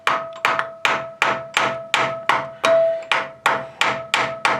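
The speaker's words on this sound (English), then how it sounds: "You want to pry a little bit and tap slowly" A hammer tapping on a Nissan Xterra cylinder head to loosen it from the block, a steady series of about a dozen sharp close metallic taps at an even rhythm, each ringing briefly, no talk.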